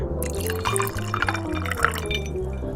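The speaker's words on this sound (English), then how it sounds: "Now, I'll pour in this. A refreshing yet warm-bodied sparkling wine." Sparkling wine pours into a glass with light, trickling drips and fizzing over a soft looping musical background, gentle and close.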